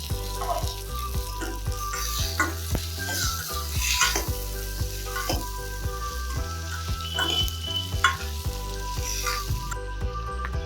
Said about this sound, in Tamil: ஒரு பெரிய வெங்காயம் சேர்த்துக்கிறேன், கருவேப்பிலையும் சேர்த்துக்கிறேன். ஒரு 2லிருந்து 3 நிமிஷத்துக்கு வதங்க விடலாம்